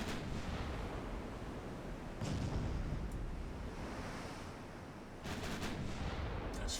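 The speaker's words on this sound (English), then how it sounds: "There's 4 turrets being fired now." Naval gun turrets on a warship fire a broadside in the game Ultimate Admiral Dreadnoughts, heard as deep rolling booms over a constant roaring wash, with a fresh burst of blasts near the end.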